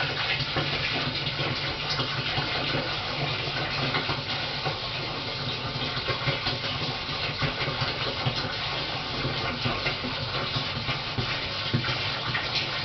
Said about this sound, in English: I'll just pour the first 10 litres in.